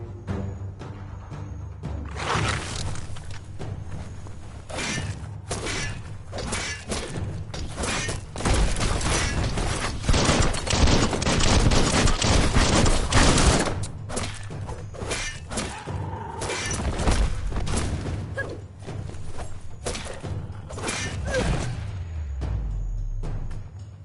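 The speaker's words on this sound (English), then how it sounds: "That's a bomb lobber." A bomb lobber in Biomutant fires repeatedly, with a clatter of mechanical thumps, shattering impacts and booming explosions that swell to a dense loud stretch midway before easing off.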